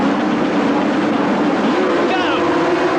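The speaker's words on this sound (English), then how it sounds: "Rev up the engines." Formula 750cc racing motorcycles at a 1977 Brands Hatch race start rev loudly together, a dense sustained engine roar that rises in pitch toward the end, with a commentator speaking over it.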